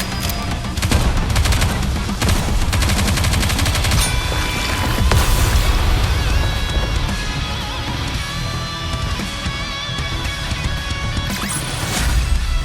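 Rapid gunfire bursts from the video game Goddess of Victory: Nikke, loud and continuous, layered with explosive crashes and booming impacts over a dense game soundtrack.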